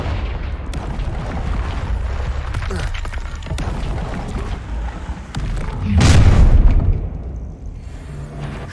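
A Confringo fire spell explodes in Hogwarts Legacy amid ongoing game combat noise, one heavy boom swelling loudly for about a second over continuous background rumble.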